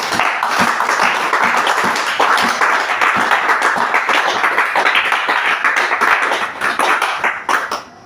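A church congregation in a temple claps together in a dense, sustained burst of rhythmic applause that fills the space before fading out at the end.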